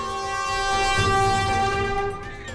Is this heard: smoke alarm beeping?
no